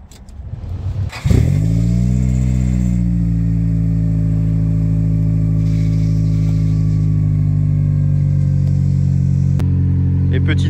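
Nissan Silvia S14 engine cranking and catching, then settling into a loud, steady, rumbling idle with a slight rise in revs, close by with no talk over it.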